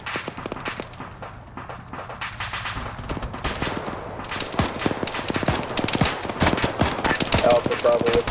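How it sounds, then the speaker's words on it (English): Sustained rapid automatic fire from miniguns in a military video game set in Fallujah, dense bursts of gunfire running continuously and growing louder toward the end, with faint voices in the mix. "Still hearing some of those miniguns firing off."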